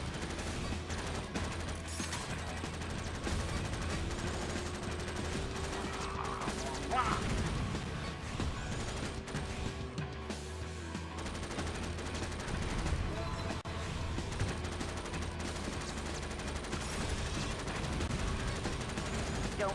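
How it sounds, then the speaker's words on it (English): Explosions in the racing video game Jak X boom and crackle repeatedly amid a dense, continuous mix of game engine drone and bursts, all at a fairly even, busy level. "Yeah, everything is blowing up. Everything is explosions."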